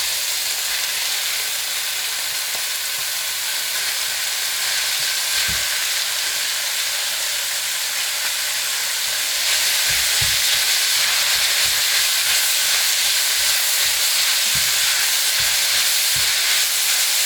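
Lamb mince hits a hot pan for a keema curry and sizzles loudly, a constant frying hiss with occasional stirring knocks and scrapes, growing denser partway through.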